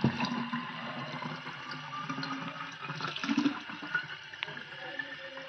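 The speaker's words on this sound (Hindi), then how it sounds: "गाइस देखिए नल खोल दिया है" Water gushes from a freshly opened tap into a container, a steady close splashing flow with small gurgles and knocks over several seconds.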